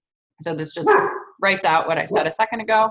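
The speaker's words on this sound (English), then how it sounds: "Sorry, that's my dog." A pet dog barks a few times indoors, sharp yips cutting through a person talking close by.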